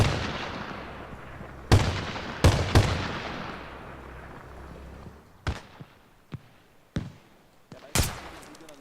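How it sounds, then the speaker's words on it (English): Bursts of machine gun fire in a military shooter video game, several loud close rattling volleys early on followed by a string of sharp, separate distant shots and booms, with no talking. "Okay, we have some machine gun fire again"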